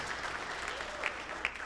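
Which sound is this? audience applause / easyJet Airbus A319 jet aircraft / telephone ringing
audience applause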